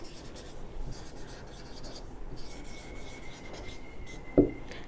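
Numbers written on a classroom board during a math lesson, with soft scratchy strokes in short bursts and a sharp tap near the end, under faint background hiss.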